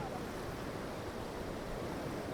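Forceful water at Polluru waterfall rushes in a continuous, even roar, loud and close with no break.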